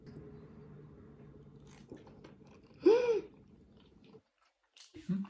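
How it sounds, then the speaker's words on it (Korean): Close, wet chewing of a bite of fresh salmon, a few soft squishy bites with a louder crunchy moment midway, over a quiet background hum. "저도 한 입 먹어보겠습니다."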